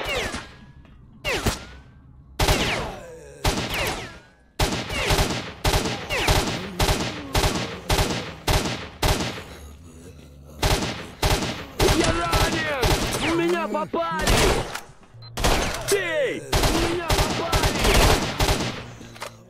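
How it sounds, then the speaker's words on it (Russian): Gunfire in S.T.A.L.K.E.R.: Shadow of Chernobyl: loud, close automatic bursts and single shots crack repeatedly in uneven rhythm throughout, with short gaps between volleys and no talk over them. "Кто так сильно меня стреляет?"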